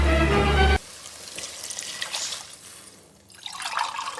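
Water is poured into a pot for cooking rice: a loud tonal burst at first, then a softer, uneven trickle and splash that swells again near the end.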